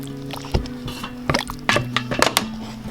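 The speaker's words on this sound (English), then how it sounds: "it's got to mash it through the colander, come through these little holes into the bowl" Wild native fruit pulp, seedy and thick, being mashed through a colander's small holes into a bowl, giving wet squishing and dripping sounds with a few sharp knocks over a low background hum.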